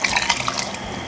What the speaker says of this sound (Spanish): voy a completar con agua bien caliente